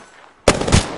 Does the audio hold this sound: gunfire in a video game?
yes